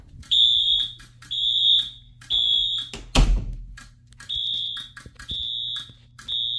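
A high-candela Wheelock AS horn strobe sounds during a fire alarm system test on a KEFA Relaypad panel: loud, harsh buzzing horn blasts in a repeating on-off pattern, broken once by a sharp thump, close and alone.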